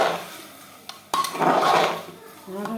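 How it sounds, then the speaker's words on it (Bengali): A spoon stirs basanti pulao ingredients in a cooking pot, making a few sharp metallic clinks followed by scraping and shuffling against the pot's sides. "সুন্দর করে নাড়াচাড়া করে নিই।"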